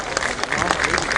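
An audience at an Odisha Police event applauds, giving a brief, dense burst of steady clapping heard close and fairly loud, with a voice running over it.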